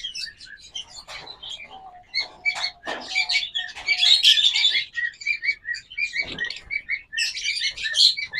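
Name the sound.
breeding pair of pet birds chirping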